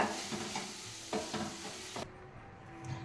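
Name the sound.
stirring turmeric into cooking gravy for samosa filling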